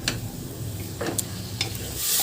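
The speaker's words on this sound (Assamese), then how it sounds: "ভাল ধৰণে এইখিনি মিক্স কৰি ভাজি ল'ম।" Close-up stir-frying of leafy greens in a hot pan: scrapes and knocks over a low sizzle, with a louder hiss swelling at the end.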